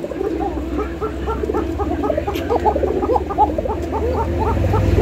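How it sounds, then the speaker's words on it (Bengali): A pair of pigeons, male and female, coo close by in a steady series of soft, throaty calls, with a low background hum underneath. "যারা ডাকে কবুতর খুঁজতেছেন ইনশাআল্লাহ নরমাদি দুইটাই ডাকে"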